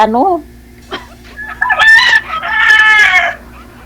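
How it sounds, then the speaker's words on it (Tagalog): Fighting roosters crow loudly and close by, with clucking and other fowl calls around them; a couple of long crows stand out above the flock. "Maraming manok. Pansabong yan."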